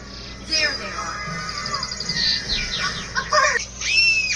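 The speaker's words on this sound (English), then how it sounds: "A bird!" A bird calls with high, bright chirps and whistling sweeps, heard in an animated scene alongside excited children's and cartoon voices speaking and shouting.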